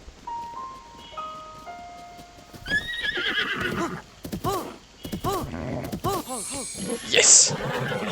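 A horse neighs in Zelda: Breath of the Wild, a drawn-out whinny with snorts and harmonic calls in the middle of the clip, followed by a sharper cry near the end, over game music and other effects.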